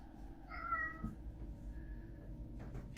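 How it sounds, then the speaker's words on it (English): A house cat gives one clear meow near the start, moderately close, over a steady low background hum, followed by quiet rustling. "My cat just keeps walking around meowing"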